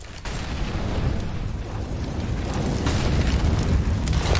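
A grenade detonates in Counter-Strike, a dense rumbling blast that roars on without a break and swells slightly louder toward the end, with no voices.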